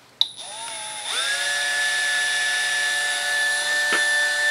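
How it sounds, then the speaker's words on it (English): Small 3-jaw chuck mounted in a hand drill and spun up: a click, then a motor whine rising in pitch and settling into a steady high tone, close and continuous with a brief tick near the end. "It's small enough I can actually chuck it up in a drill like this, and so it'll let me spin this."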